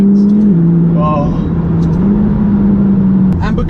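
McLaren 570GT sports car driven hard from inside the cabin, its engine holding a loud, steady drone that steps up and down in pitch as it pulls through gears, with someone talking over it.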